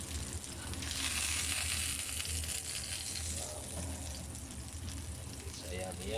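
Garlic sautéing in a pan gives off a loud, steady sizzle that fills the whole stretch, with faint clinks and stirring underneath.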